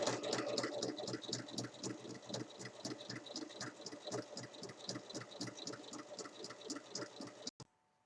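Sewing machine stitching a pocket 1 mm from the fold, a close, fast rhythmic needle chatter running continuously for several seconds before stopping abruptly.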